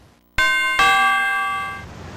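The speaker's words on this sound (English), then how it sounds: "Okay, at least they have a doorbell." A doorbell in the video game It's a Bird's Life gives two clear electronic chimes in quick succession, and the bright tone rings on and slowly fades.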